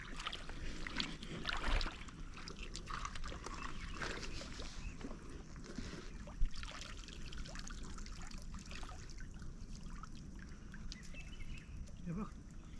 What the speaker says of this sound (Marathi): बोट आली मस्त की. बोट आली या वरती वरती या इकडे.